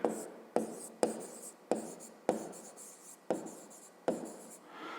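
Writing on a surface during a maths lesson, about eight short scratchy strokes with brief pauses between them, close and fairly soft, with no speech.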